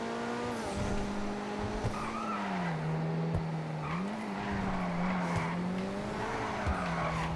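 Coquette D10 sports car in GTA V, with a steady engine drone under long, wavering tire squeals as it skids continuously, loud and close, with no talking.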